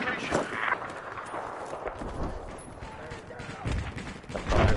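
Gunfire in Battlefield 4 cracks out in a rough, uneven string of shots layered over a busy battlefield background, with a player voice talking through much of the stretch.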